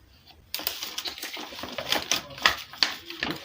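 Scissors cut out fabric pieces for a six-piece gown with a yoke, a run of quick, crisp snipping clicks, close and fairly quiet.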